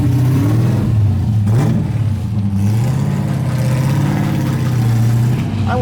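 A car with a swapped LS1 V8 engine roars and revs loudly in a rising and falling drone, staying close and strong throughout with slight pitch swings.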